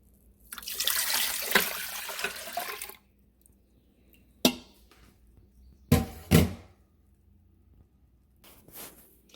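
A milk and yogurt mixture is poured back into an Instant Pot, a close liquid pour and trickle lasting a couple of seconds, followed by a few sharp knocks and clatters of the pot and utensils.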